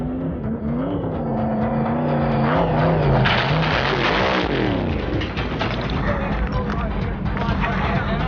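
A drag racing funny car's engine roars continuously at high revs with its throttle stuck, a loud sustained drone with shifting pitch, heard under a voice talking.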